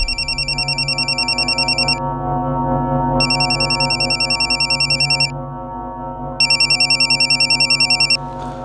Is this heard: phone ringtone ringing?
yes